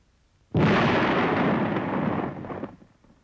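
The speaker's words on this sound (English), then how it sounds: "A 250-kilogram bomb of nearly the same type is also prepared for detonation." A Japanese 250-kilogram bomb charged with 750 pellets detonates in a wartime test: one sudden loud blast that rolls on as a broad roar for about two seconds before it fades, with no voices.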